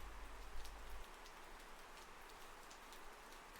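Rain falls steadily in a stormy night, a soft continuous patter with scattered drop ticks, faint and unbroken, briefly joined by a low rumble at the start.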